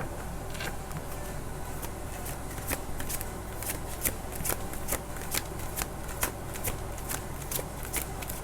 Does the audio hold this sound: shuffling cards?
yes